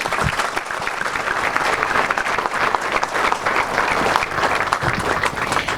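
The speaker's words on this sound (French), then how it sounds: "je pense qu'on peut leur réserver un tonnerre d'applaudissements pour les remercier" A packed hall bursts into sustained, dense applause for local gendarmes and firefighters at a New Year's greetings ceremony in Roquebillière, loud and steady throughout with a few scattered voices mixed into the clapping.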